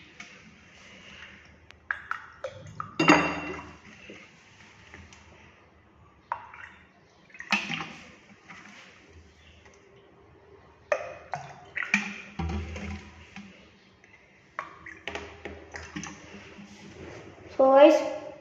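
Water goes in little by little, in short separate splashing pours with pauses between, close by, while people talk over and around the pours.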